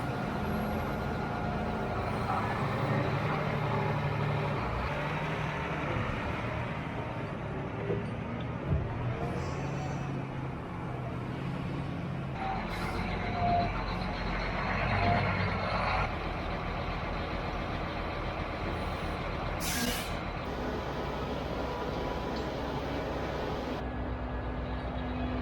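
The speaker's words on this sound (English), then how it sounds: "And there's our fertilizer truck coming down the road." A fertilizer truck rolls along a farm road, its engine a steady rumble throughout with a brief high hiss of air brakes near the end, mid-distance and continuous.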